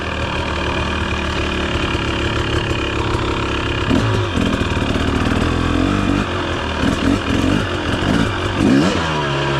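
A 2023 KTM 250 XC dirt bike engine runs loud and close, a constant buzzing drone that rises and falls in short revs through the second half.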